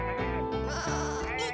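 Sheep bleating in a cartoon nursery-rhyme scene, several sustained wavering bleats following one another over a musical backing, close and clear.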